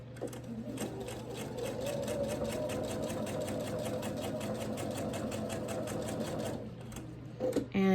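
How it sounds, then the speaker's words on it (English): Sewing machine stitching pieces of quilt-block fabric together along a seam, a steady fast mechanical whirr with rapid needle ticks running continuously for several seconds before stopping near the end. "and then I can begin sewing"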